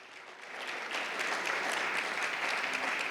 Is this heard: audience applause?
yes